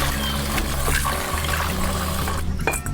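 Running water rinsing pickled mustard greens in a basin, a continuous close splashing and gushing that briefly thins out near the end.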